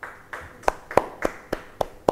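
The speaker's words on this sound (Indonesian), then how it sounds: "beri tepuk tangan bagi Tuhan" A church congregation claps together, a slow, steady series of about seven distinct hand claps, each sharp and clear at a moderate distance, with no talking over them.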